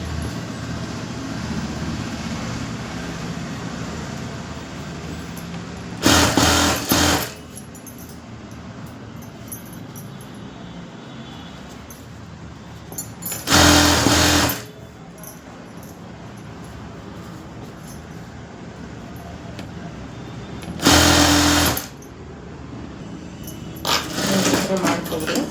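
A sewing machine stitches saree fabric lining in short bursts, each about a second long, recurring several times between longer stretches of a voice explaining as she works.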